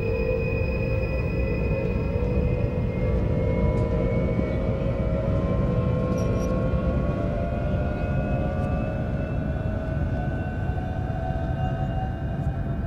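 An NS Flirt electric train in Train Simulator 2018, on the run from Dieren to Zutphen, gives a steady loud rumble under a whining motor tone that slowly falls in pitch as it slows. There is no speech.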